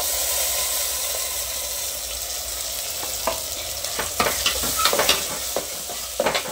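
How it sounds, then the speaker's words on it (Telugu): Onions and green chilies fry in a pan, a steady close sizzle with occasional stirring scrapes and light clatters, no voices. "ఉల్లిపాయ బాగా వేగింది చూడండి"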